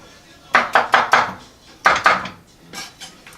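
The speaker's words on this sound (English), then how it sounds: "So first chop is in half, then I cut across. Really easy to chop an onion up quick" A knife chops through an onion on a cutting board in two quick bursts of sharp, close knocks, followed by a few softer cuts.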